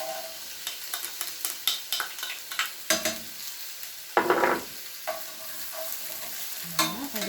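Onions sizzle and fry in a pan of olive and sunflower oil, crackling steadily while a utensil stirs and scrapes in repeated clatters and bursts, close up and fairly quiet, no talking.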